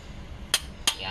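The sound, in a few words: torque wrench clicking at set torque on cylinder head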